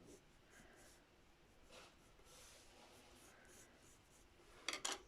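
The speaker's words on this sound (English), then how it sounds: "Draw them out in pencil." Pencil sketching a toothbrush on paper, making soft intermittent scratchy strokes that are faint and close, with a brief louder rubbing burst near the end.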